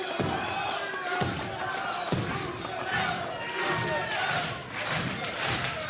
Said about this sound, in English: Partisan crowd here in Windsor, cheering on the St. Clair College alum of distinction.